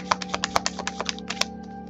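Tarot cards are shuffled by hand during a reading: a quick run of crisp, regular card snaps and flicks, close and fairly quiet, over a faint steady hum.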